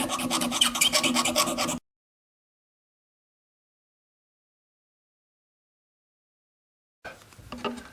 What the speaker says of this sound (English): I still think I need to do a little bit more filing around the edges though